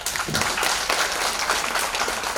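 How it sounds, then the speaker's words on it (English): A panel discussion audience applauds grassroots women leaders, with dense, continuous clapping from many hands filling the room evenly from start to finish, fairly loud and without speech. "a round of applause to you guys first"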